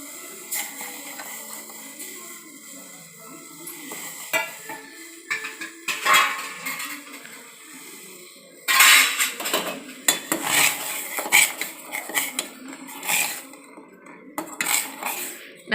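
A utensil scrapes and clinks against a metal pot of ragi porridge in irregular bursts, with quieter stretches between the livelier stirring.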